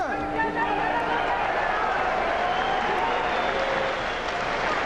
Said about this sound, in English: And the crowd gets behind the challenger again.